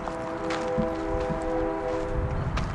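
A distant train horn sounding in steady, sustained tones beside the Concordia Cemetery in El Paso, Texas, with a low rumble of rail traffic underneath and outdoor ambience.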